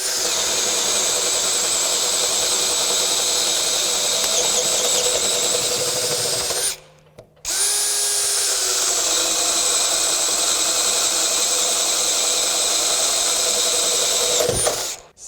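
A DeWalt Atomic Compact Series 20V brushless 1/2-inch drill on low speed bores with a 1.5-inch spade bit, a loud steady whining drone that cuts off briefly near the middle and then resumes until the end.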